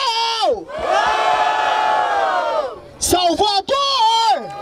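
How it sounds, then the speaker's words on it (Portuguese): A crowd at a street rap battle in Barueri, São Paulo, roars with sustained cheering and shouting, loud and continuous, swelling again after a brief dip. "Barulho para as rimas de Refel."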